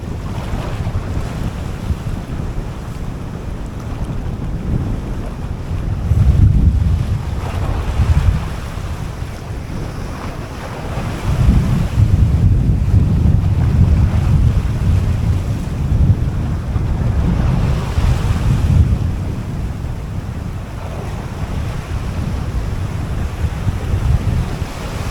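Strong monsoon wind buffets the microphone while waves rumble against the shore during shore fishing, a loud, continuous roar with gusty swells and no voices.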